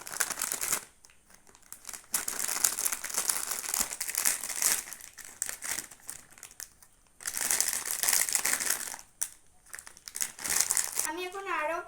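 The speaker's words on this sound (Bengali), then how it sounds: "আমি এখন আরো প্যাকেট খুলছি।" Plastic packets crinkle and crackle loudly in bursts as they are torn open and handled, with short pauses between, close to the mic; a voice speaks briefly near the end.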